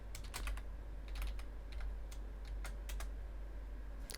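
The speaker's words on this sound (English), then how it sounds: "Going to type in your username" Quiet typing on a computer keyboard while entering a username and password in a Linux terminal, with scattered bursts of light key clicks over a low steady hum, no voices.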